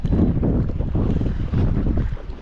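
Strong wind buffeting the microphone in a constant low roar on Moreton Bay, with gusts swelling and easing near open water.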